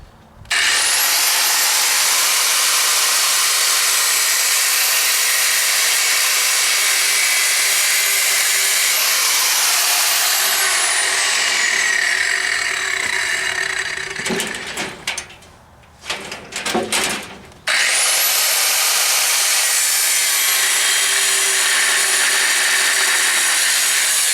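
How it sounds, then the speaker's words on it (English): An angle grinder cuts through metal stock for a one-ton truck's headache rack, a loud, continuous high-pitched whine that drops briefly mid-cut with a few stuttering bursts, then resumes at full, close-up intensity. "Grinder's cut a lot of metal. Just gotta cut this a little bit more."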